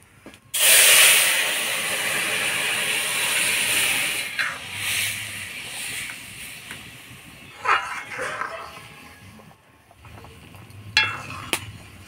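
Lentils dropped into a hot pan with dried red chillies and mustard seeds hit with a sudden loud hiss, which settles into a steady steaming sizzle, broken later by stirring clatter and faint background sounds.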